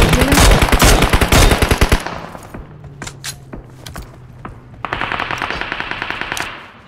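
Rapid automatic gunfire in the mobile battle-royale game PUBG Mobile during a competitive scrim, a dense loud burst of shots followed by scattered single shots and a second sustained burst.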